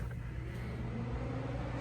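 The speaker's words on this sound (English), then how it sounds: "Let's see if this thing starts." A Nissan S13 car engine running after a full teardown, with a steady low rumbling idle heard close up, a continuous even drone without revving.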